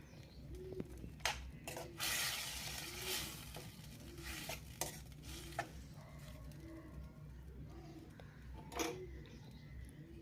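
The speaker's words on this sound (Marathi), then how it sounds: "यामध्ये शिजवून घेतलेल्या डबल बी घालूयात, मिक्स करून घेऊयात" Cooked butter beans stirred into a pan, giving soft scraping and occasional clinks of a spoon against the pan over a faint sizzle, close but quiet, with birds calling faintly in the background.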